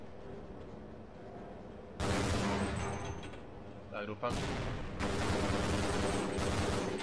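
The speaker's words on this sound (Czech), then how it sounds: "Tak a už tady po mně mrskají granáty." Grenade explosions boom in the Half-Life video game, two loud sustained blasts of gunfire-like roar filling the scene, with someone speaking briefly between them.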